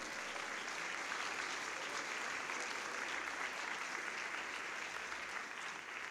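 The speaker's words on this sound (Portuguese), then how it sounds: "Pode dar uma salva de palmas para o Senhor?" Steady applause from a church congregation at a Portuguese-language evening communion service, a continuous even patter of clapping hands heard alone for about six seconds at moderate loudness.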